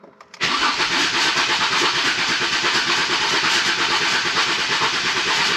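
A Ford Mondeo ST220 engine turns over on a weak starter motor during a compression test, a loud, steady, rapid churning that carries on without a break and without firing.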